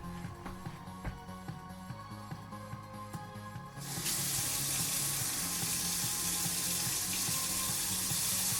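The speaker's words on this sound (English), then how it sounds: "Okay, so I need room temp water to the line." Room-temperature water from a tap suddenly gushes into an instant ramen bowl, a steady loud splashing rush that continues after a quieter stretch of kitchen clatter.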